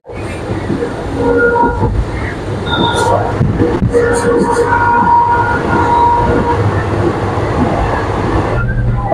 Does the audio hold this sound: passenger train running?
yes